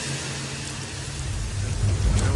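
Steady heavy rain pours with a deep rumble of thunder swelling toward the end, loud and close, with no voices.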